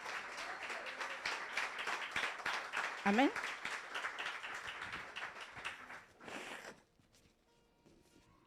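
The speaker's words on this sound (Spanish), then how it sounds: "da fuerte aplauso a Jesús" Church congregation applauds in a loud stretch of overlapping claps, with a voice calling out over it; the applause fades out and quiet talk follows.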